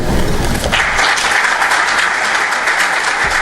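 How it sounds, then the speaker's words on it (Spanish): An audience applauds after an engineer's lecture, with sustained, full clapping from many people that starts abruptly and stays loud and even to the end. "Es un aplauso que nos queda corto."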